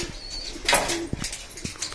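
Homing pigeons at a home loft give soft coos and a brief burst of wing flapping, close by and moderately loud, with several short thumps and rustles following.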